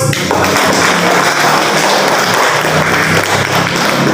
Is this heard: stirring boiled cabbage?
no